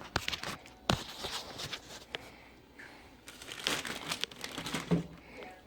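Seasoned fish pieces dropped into a gallon Ziploc bag of plain white flour, giving soft plastic crinkling and rustling with a few sharper crackles and thumps, close and fairly quiet.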